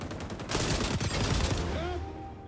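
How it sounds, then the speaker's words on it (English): A light machine gun in the shooter XDefiant fires a rapid burst of shots with a dense, rattling report, trailing off into a faint electronic beep near the end. "Let's see what the LMG is like."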